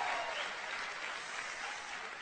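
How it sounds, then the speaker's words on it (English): Audience applause at a lecture on the science behind PowerStrips patches, a dense, even wash of clapping from a crowd, fairly faint and steady throughout without speech. "please give me a big loud round of applause."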